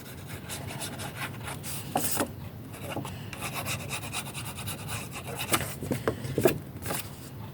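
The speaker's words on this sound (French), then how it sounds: "Maintenant, je vais coller ma pochette." Paper pocket being glued for a scrapbook photo album with a standard glue applicator, giving a steady close rubbing, scraping sound with several louder strokes, no talking.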